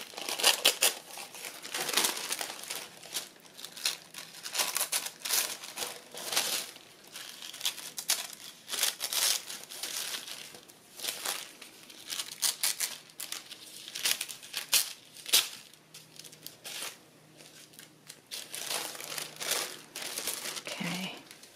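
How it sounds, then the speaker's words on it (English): Paper is torn by hand for a vintage travel journal page. Close, crackly rips and crinkles repeat in uneven bursts with short pauses between them, and the sound carries on for a long stretch. "I'm going to tear it around."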